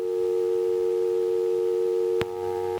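Telephone busy signal, a loud, steady electronic tone droning close to the earpiece, then a brief click as the line shifts and the tone continues more faintly before cutting off.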